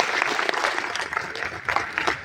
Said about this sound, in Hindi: इनके लिए ताली बजाओ।